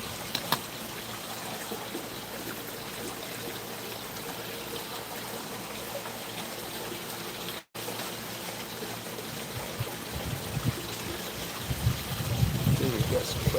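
Fresh water pours steadily into an indoor garden pond with a continuous trickling and gushing wash, and a brief dropout midway; low rumbling handling noise builds toward the end.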